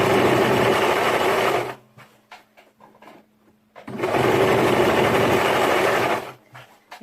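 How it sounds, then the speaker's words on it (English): Sewing machine zigzag stitching elastic onto fabric for a ruffle crop top: two loud, close bursts of rapid whirring stitches separated by a pause filled with soft clicks and fabric handling. "As I sew and go, first of all, I'll start and zigzag."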